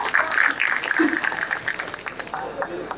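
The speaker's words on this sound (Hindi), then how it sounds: "एक बार इनके सम्मान में जोरदार तालियां बजाइएगा" Moderately faint applause from the audience at an All India poetry mushaira rises and falls, mingled with voices in the hall.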